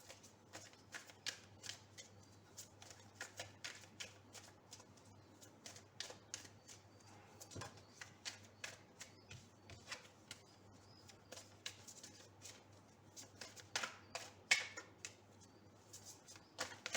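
A Universal Waite tarot deck being shuffled, giving quiet, rapid riffles and soft card flicks in irregular bursts, close and fairly faint against a silent room.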